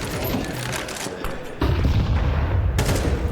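Gunfire rings out in a professional Counter-Strike match, with sharp shots and a heavy booming burst partway through, under and between commentators' voices.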